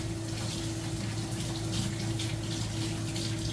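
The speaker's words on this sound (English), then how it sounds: "Let me rinse my hands." Tap water runs steadily into a sink as hands are rinsed in a kitchen during peach canning, a continuous close gushing stream with no voices.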